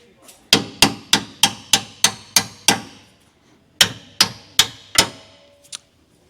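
Sharp metal hammer blows drive a suspension part into place on a 1972 Chevelle: eight evenly spaced ringing strikes, a pause, then four more and a lighter final tap, close and loud with no talk.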